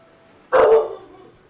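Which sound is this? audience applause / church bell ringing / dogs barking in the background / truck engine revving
dogs barking in the background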